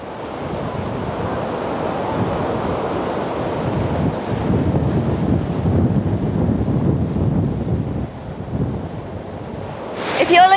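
Waves break on a natural Caribbean beach near Nelson's Dockyard, Antigua, in a continuous rumbling surf wash with gusty wind noise on the microphone, swelling louder midway through.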